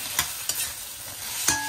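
Garlic sizzles in a hot pan while a utensil scrapes and stirs it in three sharp strokes, close and fairly loud with no talk.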